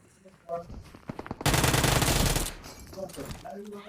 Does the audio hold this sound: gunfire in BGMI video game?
yes